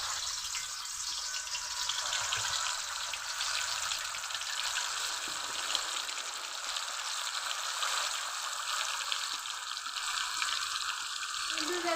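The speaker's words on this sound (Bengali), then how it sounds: "বেশি আঁচ দেওয়া যাবে না, অল্প অল্প আঁচ দিয়ে ভেজে নিতে হবে।" Chicken leg pieces fry in hot oil over low heat, giving a steady, even sizzle and crackle that carries on without a break and with no talking.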